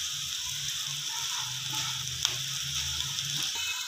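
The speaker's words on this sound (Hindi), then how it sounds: "अब हम इसको प्रेस करेंगे। प्रेस करना बहुत ज़रूरी है, इससे पराठा थोड़ा क्रिस्पी बन जाता है।" An aloo paratha sizzles steadily on a hot pan while being pressed down, a continuous close frying hiss with a few soft clicks and scrapes from the press, no voices.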